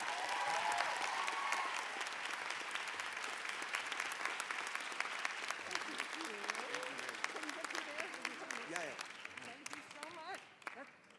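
A graduation ceremony audience at the Rutgers School of Social Work claps steadily, the dense applause slowly fading while a voice speaks over it near the end.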